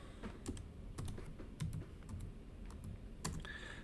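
Quiet keystrokes on a computer keyboard as a stock ticker is entered, irregular clusters of crisp taps separated by brief pauses, close and soft, no voices.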